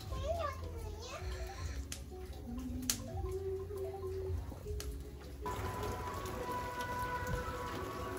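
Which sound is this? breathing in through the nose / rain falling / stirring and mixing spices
rain falling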